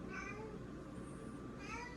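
A house cat named Edmund, called Kitty, meows twice at home, short and fairly close, with a quiet background between the calls.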